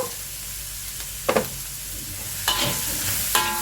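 Chili powder and onions frying in a pan are stirred a few times, the utensil scraping in short bursts over a steady low sizzle.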